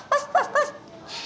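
A dog gives three quick, high-pitched yelping barks in an even rhythm, close and fairly loud, followed by a soft hiss as it falls quiet.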